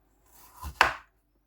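A single cut of a Pchak knife through a carrot: a soft slide of the blade, then one sharp crunch and thud on the board, close and isolated in quiet.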